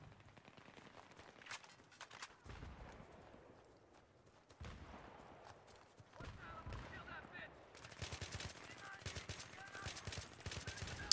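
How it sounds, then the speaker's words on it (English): Battlefield 3 gunfire comes in scattered bursts of rapid shots, quiet and distant at first, growing denser and sharper toward the end amid crackling battle noise. "I'm just shooting all around the guy, and then he turns around, he's shooting all around me"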